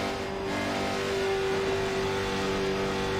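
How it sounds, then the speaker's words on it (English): Late model stock car on a paved short track, its engine droning steadily and loud throughout, with the chassis underneath knocking over bumps as it laps. "You can hear those bumps hitting on the chassis under the car"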